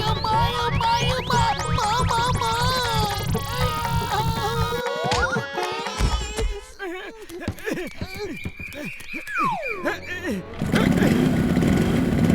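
A cartoon motorbike engine putters in a steady, pulsing low chug at first, mixed with cartoon voices and sound effects that sweep and warble over it.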